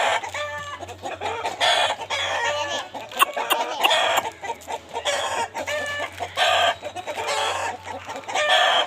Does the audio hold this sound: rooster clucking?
yes